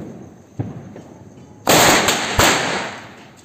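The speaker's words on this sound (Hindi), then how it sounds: "ओ भाई, ये तो बहुत ही धमाकेदार स्काई शॉट है दोस्तों" A Blue Star mini sky shot firework goes off for New Year, starting with a small pop followed by two loud, sharp bursts with crackling tails, close and forceful.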